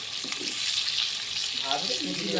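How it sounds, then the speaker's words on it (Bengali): Potatoes sizzle and fry in a pan during outdoor picnic cooking, a steady close hiss with soft stirring scrapes throughout. "এই যে আলুগুলো এইভাবে প্রথমে ভাজা হবে তারপর চিকেনগুলোকেও হালকা করে ভেজে নেওয়া হবে"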